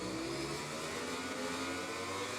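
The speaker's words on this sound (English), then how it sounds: "So here's Stone revving up then at the start as we wait for the lights to go out." Suzuki motorbike engine revving at a race start in MotoGP 20, a sustained buzzing engine drone with several bikes idling and revving together, steady and fairly loud, no talking.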